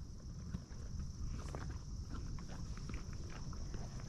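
A dressage horse walking at home during a training ride, hooves clopping in a soft, steady rhythm close by, low and muted against continuous background noise.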